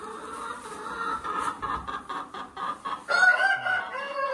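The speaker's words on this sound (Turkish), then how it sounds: "Tavuğumuz." Several hens clucking inside a backyard chicken coop during cleaning, with busy overlapping calls and a few rising squawks, steady and fairly close throughout.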